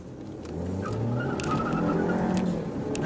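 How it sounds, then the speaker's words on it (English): A 2016 Ford Escape with a 1.6-litre turbo four-cylinder accelerates on the road, engine note swelling from quiet to a steady rising drone over road and tyre noise, heard from inside the car. "that turbo four-cylinder does get up and move"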